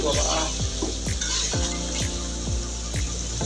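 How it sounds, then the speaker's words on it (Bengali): Eggs for dim bhuna are stirred and fried with spices in a pan, giving a continuous close sizzle. A regular, repeating background thump sounds about every half second. "ভালো করে ডিমগুলো মশলার সাথে ভালো করে নেড়ে চেড়ে কষিয়ে নিচ্ছি"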